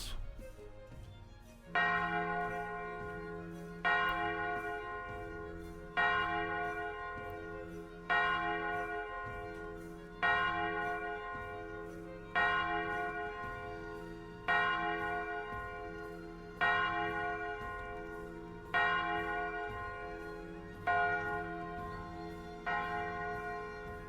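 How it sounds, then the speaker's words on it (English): A bell rung as a summons in a video game, nine or so evenly spaced loud clangs, each ringing out and decaying before the next strike, with no talk over it. "All right, I'll get the bell rung here."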